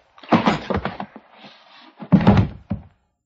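Heavy thuds against a door in a radio detective drama, landing as a loud cluster of blows, a short pause with faint rumble, then another burst of pounding and one last hit.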